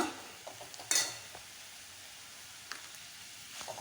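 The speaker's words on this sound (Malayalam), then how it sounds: "അതൊന്ന് നന്നായി വഴറ്റിയെടുത്ത് ഒരു പകുതി പോകുന്നവരെ വഴറ്റിയെടുക്കുക" Lentils and onions being sautéed in a pan for a vegetable curry, a soft continuous sizzle with a few scraping stirs and a sharp utensil clink, close and fairly quiet.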